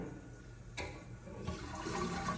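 A toilet flushes in a restroom at the Palisades Center Mall. The rushing water starts fairly quietly, picks up with a sharp gurgle partway through, then carries on as a steady refill, with no voices heard.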